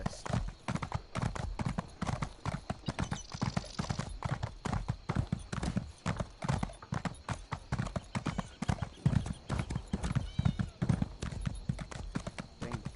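Steady, rhythmic hoof clip-clop of a horse in Elder Scrolls Online, loud and close, running through the whole stretch over a low background with some faint voice.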